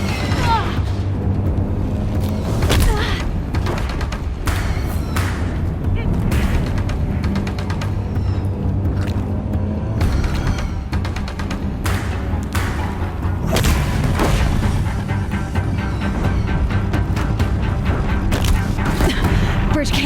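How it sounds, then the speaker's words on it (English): Heavy Deathbringer war machines fire on a bridge in the Horizon Zero Dawn video game, with dense, repeated booming thuds and blasts rumbling without a break over loud layered game audio. "If the Deathbringers keep firing, this bridge will go."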